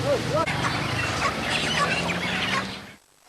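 Chickens scattered across a road after a pickup truck crash in Bandar Lampung cluck and squawk over busy outdoor noise. The clucking is brief and close, then the sound cuts off abruptly near the end.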